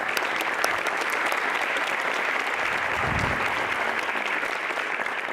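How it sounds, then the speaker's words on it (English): An audience claps through an IB pinning ceremony for graduating students, continuous mid-level applause with a brief low thump partway through. "That deserves an applause."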